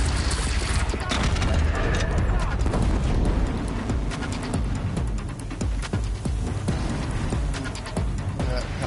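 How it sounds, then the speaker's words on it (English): Cannon fire in the action game Horizon Zero Dawn, heard as a dense run of booming shots and thuds over a constant loud throbbing rumble of game action and music. "These cannons are great."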